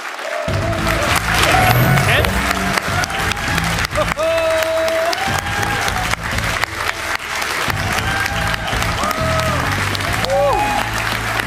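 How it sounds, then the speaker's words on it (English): Audience at a Gamescom 2019 Inside Xbox presentation for Gears 5 applauds and cheers steadily and loudly, with music and a voice running over the crowd noise throughout. "I might just keep clapping"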